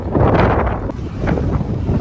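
Strong wind buffets the microphone in rumbling gusts, loud and close, with no other clear sounds.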